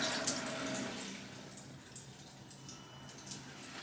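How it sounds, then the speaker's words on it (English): Water runs from a shower with a Moen Renewal double-head slide bar in a steady, quiet hiss, with a few faint splashes and drips over the flow. "let's try her again with the water turned on"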